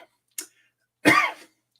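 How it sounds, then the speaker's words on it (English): A single harsh cough from someone feeling under the weather, one loud burst about half a second long after a faint tick, alone with no talking. "I've got a bit of a cough."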